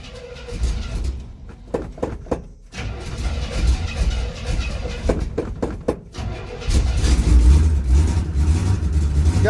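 A 1967 Chevrolet C10 pickup cranks in short bursts, catches, and settles into a loud, steady running engine up close.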